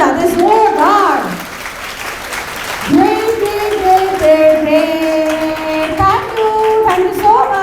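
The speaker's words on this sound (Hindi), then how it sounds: "एक दफ़ा अपने लिए और अपने दोस्तों के लिए ताली बजा दें" A workshop audience claps together, with applause washing in under loud talk from a presenter whose voice carries over and between the clapping.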